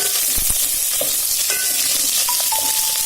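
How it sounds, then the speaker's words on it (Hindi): Steady, dense sizzling of onion, garlic and chilli frying in a hot pan for vegetable biryani, with occasional scraping and stirring clinks over the constant crackle. "इसको हम फ्राई करते रहेंगे।"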